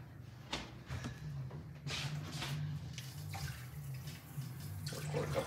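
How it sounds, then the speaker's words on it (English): Water poured from a measuring cup into a meat and breadcrumb mixture in a home kitchen, a steady close trickle and splash over a low hum, without talk. "I'm going to put a little bit of water in there too"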